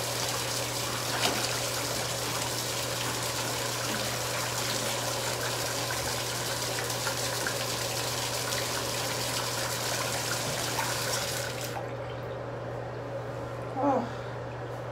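Water steadily rinses a bathtub during a bathroom clean, a continuous close splashing rush with a low hum underneath that stops abruptly near the end, followed by a brief faint knock.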